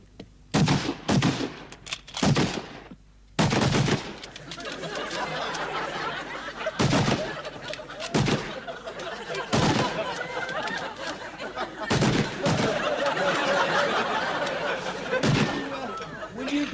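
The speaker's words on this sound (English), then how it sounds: "5 rounds, fire!" Rifles firing on a range, a series of loud separate cracks and bangs from several shooters, irregularly spaced, with a noisy rumbling background and some voices between shots.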